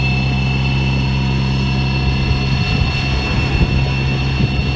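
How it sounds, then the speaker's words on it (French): A Fly Wing FW450 V3 RC helicopter flies a figure eight, its steady high-pitched motor and rotor whine holding loud and constant, with faint bursts of wind or handling noise underneath and no talk. "Donc là l'hélico fait une figure en forme de 8."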